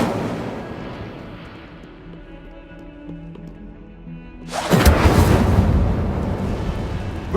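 A loud, fiery burst erupts partway through, the Incendio fire spell cast in the Hogwarts Legacy video game, a broad roaring blast that sustains to the end after a quieter stretch of low ambient game tones.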